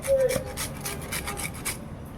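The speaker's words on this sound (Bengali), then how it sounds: "এই যে লেবুর পিঠটা ঘষে দেব" A gandharaj lemon is rubbed against a grater for zest, making soft, rhythmic rasping strokes of about eight scrapes in two seconds, close and fairly quiet.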